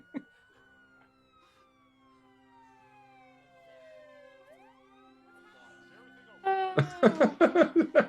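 Police siren wails approaching, sweeping slowly down and back up, steady and fairly faint, before loud voices cut in near the end.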